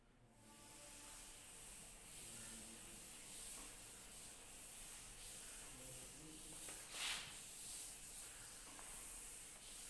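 Writing is rubbed off a classroom board, a faint, continuous soft scraping and hissing that runs steadily, with one slightly louder swipe near the end.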